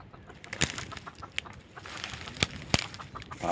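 Chickens, including a hen and young roosters, cluck and squawk nearby in short, scattered calls over a busy outdoor background, with a few sharp clucks standing out.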